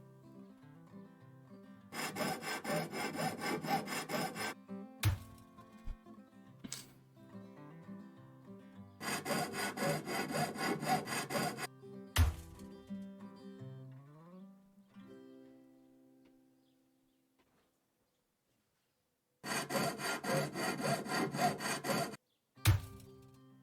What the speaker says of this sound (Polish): Na pewno bym taką piłą to zrobił.